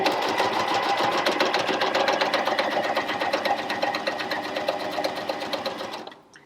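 A Janome Coverpro 1000cpx coverstitch machine runs steadily, stitching fabric with a fast, even mechanical chatter at close range for about six seconds before winding down and stopping.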